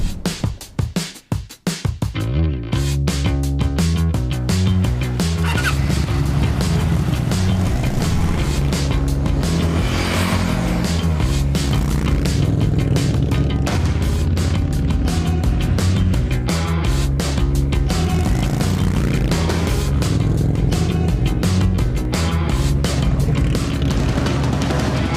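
2025 Indian Scout motorcycles start up and ride off, their engines rumbling and revving loudly nearby, with pitch rising and falling through gear changes as the roar carries on continuously.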